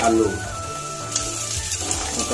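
Chopped peas tossed into onions frying in hot oil, a dense close sizzle running steadily for a couple of seconds with faint stirring.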